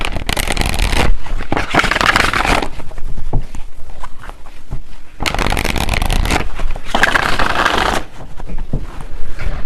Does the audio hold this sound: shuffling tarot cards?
yes